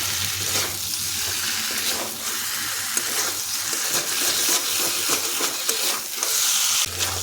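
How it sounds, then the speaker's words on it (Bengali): Cauliflower fries with spices in a pan, giving a continuous close sizzle broken by the scrape and clatter of a spatula stirring it through. No one speaks. "মশলার সাথে মিশিয়ে ভালোভাবে ফুলকপিটা একটু কষে নিতে হবে"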